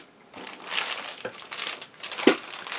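Plastic bags holding Meccano Maker System 5 plastic parts crinkle and rustle in uneven bursts with a sharper crunch near the end, handled close by with no talking.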